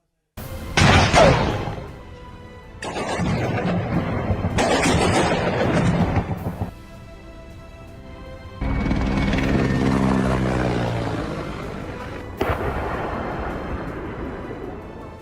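Heavy engine roar of aircraft over war-torn Ukraine comes in several loud blocks separated by abrupt cuts, with one passage carrying a rising droning whine, close and dominant throughout.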